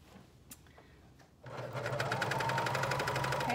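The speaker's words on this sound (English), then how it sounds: "And so now I'm gonna stitch along." A coverstitch machine hemming a folded fabric edge on a basic tee starts up after a quiet moment, then runs as a fast, even, close mechanical whir that continues to the end.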